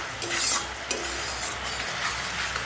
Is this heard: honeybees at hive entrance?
no